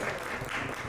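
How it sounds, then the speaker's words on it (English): An audience at a women empowerment conference in Edmonton applauds in a dense, continuous wash of clapping that fills a brief moment, fairly loud and close. "A big round of applause to Ramesh."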